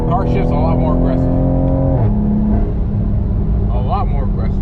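Loud, close engine drone from a Toyota Supra running a stage 2 transmission tune, the pitch rising and then falling abruptly at a gear change before settling; voices chatter over it throughout.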